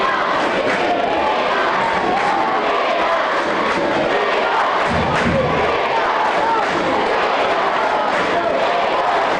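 Crowd at a high school basketball game cheering loudly for the Eagles, a sustained roar of shouts and yells with thuds and a brief low rumble partway through.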